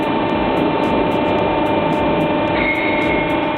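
A twin-shaft tire shredder from China, driven by 90 kW motors and built for tires up to 2,000 mm across, gives off a steady, loud mechanical grind and hum with rhythmic clanking, and no voices are heard.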